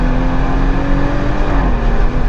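A Porsche 911 Carrera GTS engine howls at high revs on the Nürburgring track, a loud, sustained mechanical drone with rising harmonics, heard up close with no voices.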